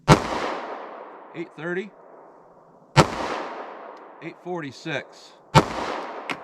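A .45 ACP pistol with a 3.3-inch barrel fires three loud, sharp shots spaced a few seconds apart, each with a ringing decay, while a chronograph voice reads out numbers between them.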